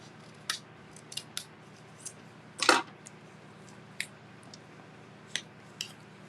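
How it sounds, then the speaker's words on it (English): Scissors cutting scrap cardstock in half make a series of crisp, close snips spaced irregularly, with one longer slicing cut in the middle, against a quiet background. "Then I just like to take it and cut it in half."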